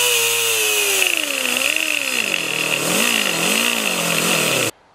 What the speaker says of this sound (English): We're going to start with some rough cuts to match the port with a new, larger valve seat